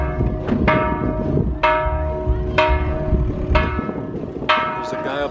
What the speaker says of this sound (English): There's a guy up there hitting the bell.